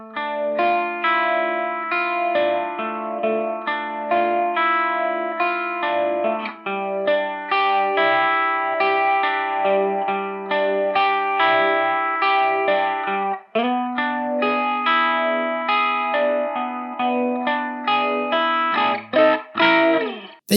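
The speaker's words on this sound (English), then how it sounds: "I'm also using the fundamental phaser here on the light mode" Electric guitar plays a swirling, layered intro through a Walrus Audio Fundamental phaser pedal on its light mode, with sustained chords and crunchy overdriven edge, loud and continuous throughout.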